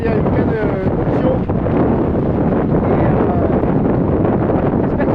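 Strong wind blows across a lakeshore during a carp fishing session, a loud, continuous rushing roar buffeting the microphone, with a faint voice briefly beneath it.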